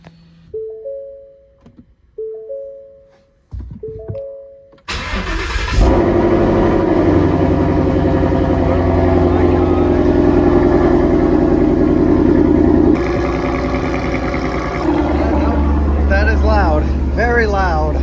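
A Ford Mustang with a performance exhaust cranks and fires, then settles into a loud, deep, rumbling idle with an aggressive exhaust note; a few short electronic chimes precede the start.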